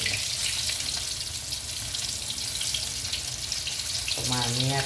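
Pieces of sea bass frying in oil: a dense, steady sizzling hiss fills the whole stretch at close range, with a brief tonal voice-like sound near the end.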